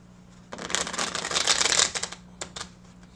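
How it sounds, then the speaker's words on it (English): A full deck of playing cards gets one riffle shuffle, a dense papery rattle that builds for about a second and a half, then a few quick flicks as the cards settle, all close up with no talking. "I give the whole deck one good shuffle."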